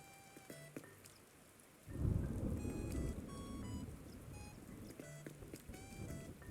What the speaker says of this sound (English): It is pouring down and it's actually storming, not just raining.